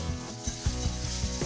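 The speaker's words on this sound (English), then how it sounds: "Understand that the pan's very hot, this is gonna hiss and sizzle a little bit." Whole milk pouring into a very hot pan of roux, hissing and sizzling steadily with soft scraping and stirring sounds close by.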